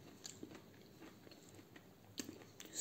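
Crisp bites into fried apple fritters, a few sharp crunches spaced across the moment with soft chewing between, close and fairly quiet with no talking.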